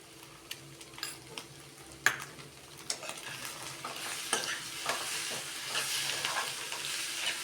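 Ingredients seasoned with salt and pepper are stirred and fried in a pan, a steady sizzle rising underneath sharp scraping and tapping strokes of a spoon against the metal, close and fairly quiet, with no voices.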